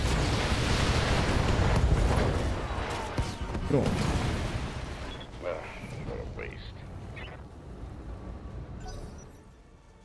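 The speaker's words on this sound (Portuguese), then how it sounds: "Vamos dar uns tiros nesse pequenininho aqui que tá na frente." Mech weapons firing and explosions in the Battletech game: a heavy, dense roar of blasts and rumbling for several seconds, then smaller bursts and metallic hits trailing off, with someone talking over it.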